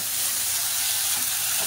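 Ginger garlic paste and tomatoes fry in oil with a continuous bright sizzle and hiss, steady and close, with no voices.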